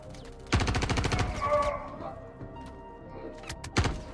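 Automatic gunfire in the game Star Citizen during an Overdrive mission: a rapid burst of shots close by, a short pause with a faint tonal hum, then a couple of sharper single cracks near the end.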